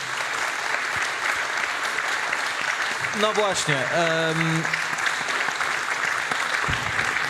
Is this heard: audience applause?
yes